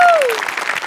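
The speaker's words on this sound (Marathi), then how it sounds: "मोठ्यांसाठी एकदा जोरदार टाळ्या" Audience applause at a Marathi stage comedy show, a dense burst of clapping that stays loud for under a second, with a voice briefly audible at the start.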